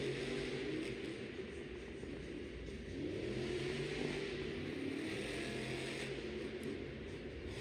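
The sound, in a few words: monster truck engine revving at Monster Jam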